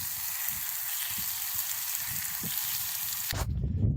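A ribeye steak sizzles in a pan on a mountain summit, a steady close hiss and crackle for about three seconds before a burst of low wind rumble takes over.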